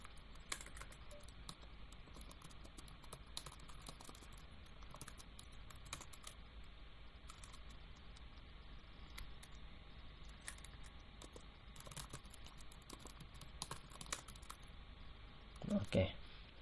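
Quiet, steady typing on a computer keyboard, irregular clicks of keys pressed in short runs throughout, with a slightly louder clatter near the end.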